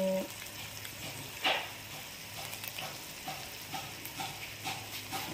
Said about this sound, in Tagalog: Yan, kumukulo na po.